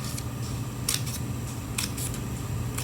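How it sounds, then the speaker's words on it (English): Scissors snip paper a few times, a couple of quick crisp cuts spaced apart, close by over a steady low hum. "take your scissors and you're going to cut little"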